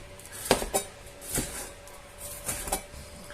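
Vegetables being chopped with a knife for a paella-style rice dish with chicken and chorizo, giving a handful of sharp, irregular knocks on a cutting board, close and fairly quiet, with pauses between cuts.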